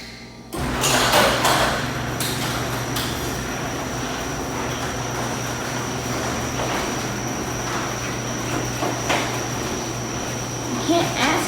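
A newly installed LiftMaster 3280 garage door opener running, with a loud steady mechanical rumble and hum, a clunk as it starts, and rattling bumps as the door travels.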